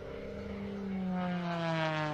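A propeller aerobatic airplane performs at an airshow, its engine droning steadily and rising in pitch as it maneuvers through a knife-edge tumble, heard from a distance without talk.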